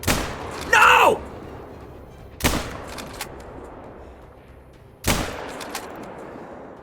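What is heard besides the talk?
rifle gunshots while hunting pronghorn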